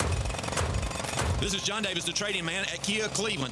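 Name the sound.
construction jackhammer sound effect in radio ad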